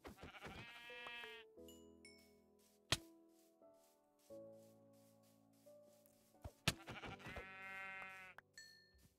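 Sheep in Minecraft give several clear bleats, loud and close, mixed with sharp game sound effects and item dings, with no talking.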